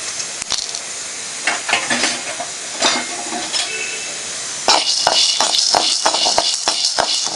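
Chana dal and urad dal roasting in a pan give a steady hiss with repeated scraping and stirring clatter that grows busier toward the end.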